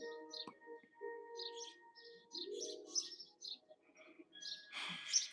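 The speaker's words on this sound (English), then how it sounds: "Y'all hear these birds outside?" Several birds chirp and tweet outdoors in short, scattered bursts, with a soft cooing underneath; moderately near, fairly quiet, no talking.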